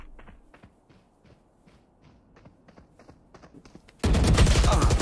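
Gunfire in a Valorant match: a run of sharp, quick shots and bursts with footsteps in between, then a loud, dense barrage of rapid fire swelling up near the end.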